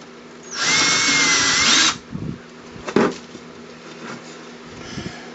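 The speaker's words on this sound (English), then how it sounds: "all we're going to do is countersink it enough to where it hides the screw head." A power drill countersinks a screw hole in wood for a paracord jig, giving one loud whirring burst of about a second and a half. Short, quieter bit-on-wood grinds and clicks follow.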